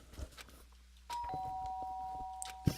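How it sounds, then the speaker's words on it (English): A doorbell chime rings in the PC game Danganronpa: Trigger Happy Havoc. A clear sustained tone enters partway through and holds steadily over quiet background sounds, ending with a soft knock. "Doorbell!"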